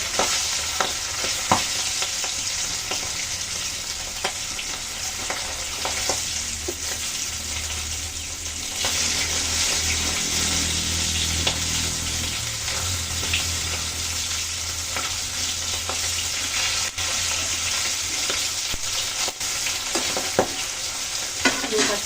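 Tengra fish frying in hot oil gives a steady, dense sizzle and crackle that runs unbroken and close, with occasional sharper pops and stirring clatters, and no talk over it.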